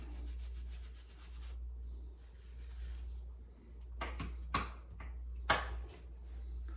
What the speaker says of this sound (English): see how this stuff performs cutting back a thick beard